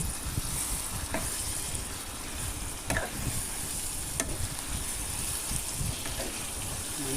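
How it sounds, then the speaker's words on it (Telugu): Chicken and broad beans for a curry stirred in a sizzling pan, a steady close frying hiss with soft scraping strokes and a few brief clinks, no talk. "ఇప్పుడైతే మనం ఒకసారి కలుపుకుందాం."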